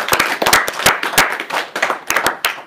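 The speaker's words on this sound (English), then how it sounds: "give us a round of applause" A small audience at a livestreamed event in Steneby claps in scattered, distinct, crisp hand claps that come in quick irregular bursts, close and moderately loud throughout.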